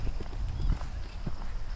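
A horse's hooves thud on the ground during a show jumping round, soft irregular footfalls heard at a distance under steady background noise.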